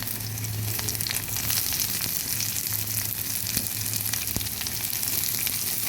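Two small chopped onions frying in a pan while cabbage bharta is made, giving a steady, close sizzle and crackle that runs without a break, with occasional faint stirring scrapes.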